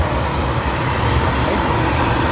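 An ANA airliner on runway 34 left at Sydney Airport begins its takeoff roll, a loud steady broadband engine roar with strong low rumble, continuous and unbroken throughout.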